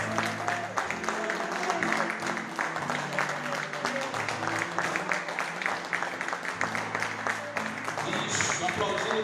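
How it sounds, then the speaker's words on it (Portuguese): Church congregation applauding the Lord during a worship service, a rhythmic clapping crowd under a pastor's voice and background music throughout. "Dê um aplauso ao Senhor."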